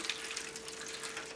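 Water from a tap splashes steadily into a plastic seed starting tray with drainage holes in the bottom, a continuous close, moderately quiet pour with a faint steady hum beneath.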